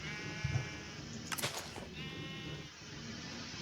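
Sheep bleat on a farm in a Warcraft video game, a couple of short nasal calls standing out over a steady hum of game ambience, fairly close and alone without talk.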